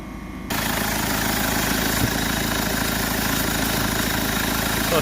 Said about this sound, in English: I'm going to start the vehicle up.